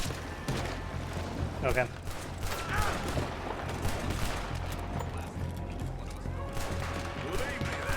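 Gunfight from a boat on a river current against enemies on the shore in Red Dead Redemption 2, scattered loud shots and volleys with splashes and crashes, while people shout and talk throughout.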